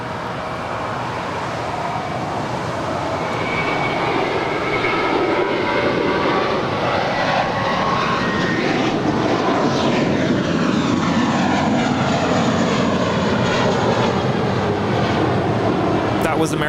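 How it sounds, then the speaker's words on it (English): An eight-year-old American Airlines Airbus A321 jet departing LAX for New York roars loudly and steadily, its engine noise building and sweeping in pitch as it passes close by, while someone talks faintly underneath. "Was American 118 departing to New York. It's an 8-year-old Airbus A321."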